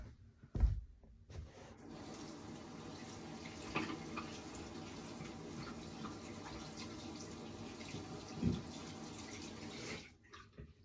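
Water runs steadily from a tap while something is rinsed off, a continuous faint splashing stream with a brief knock near the start and end.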